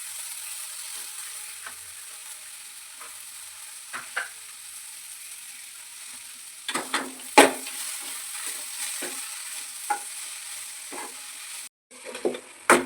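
Greens with sambar powder fry quietly in a pan under a soft, steady sizzle, with scattered scraping and clicking stirs that come more often in the second half.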